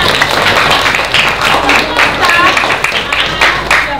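Elementary classroom students clap together in a loud, continuous burst of dense applause, with children's voices mixed into the clapping.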